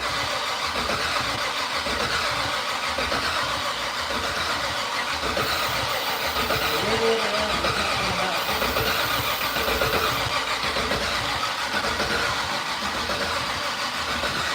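A Fatsun car engine cranks and starts after three years unused, then runs in a steady loud rough idle throughout, with people talking faintly in the background.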